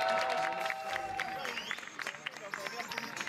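An audience applauds and cheers as esports team Manticore is welcomed at the Valenciennes Game Arena event, with steady clapping mixed with crowd babble and a voice over the top.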